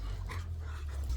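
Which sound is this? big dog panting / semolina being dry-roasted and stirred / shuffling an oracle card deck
big dog panting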